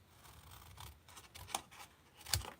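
Scissors snip through paper while a carrot nose is cut out freehand, a few soft, close, quiet cuts and rustles spaced irregularly, with a sharper crisp snip near the end.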